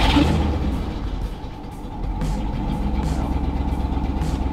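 A BroncStar truck engine idles steadily up close, a low continuous rumble with a slight dip partway through before settling back into an even running drone.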